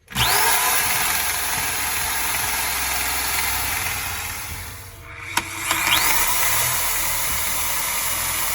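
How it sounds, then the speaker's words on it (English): A power drill boring a 3/4 inch hole for a water line aboard a sailboat whirs loudly and steadily, dips briefly as the bit bogs down, then spins back up to full speed. "Gonna drill a 3/4 inch hole for the water line."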